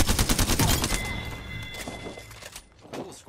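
Rapid bursts of video game gunfire crackle in a dense, loud volley, then thin out into scattered shots and a faint electronic tone with quieter thuds trailing off.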